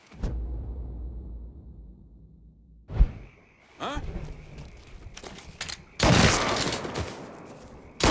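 A shootout in the video game Mafia III sets off sharp gunshots, a single crack and then a dense burst of rapid fire near the end, with voices talking in between.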